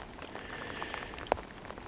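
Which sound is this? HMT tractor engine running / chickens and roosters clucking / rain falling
rain falling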